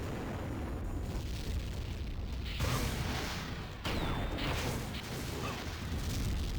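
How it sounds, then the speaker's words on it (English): Mortar explosions in the video game Tribes 2, heavy booming blasts and rumbling bursts across a noisy battlefield, one sharp jump in loudness partway through, no talk. "More mortars being chucked around."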